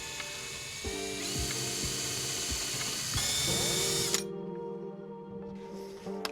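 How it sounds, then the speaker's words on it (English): Power drill boring holes into an old flooring board being made into a cabinet door for cup hinges, a steady whining motor with short ratcheting bursts, pausing and restarting, close and alone without talk. "And then we drill in some holes."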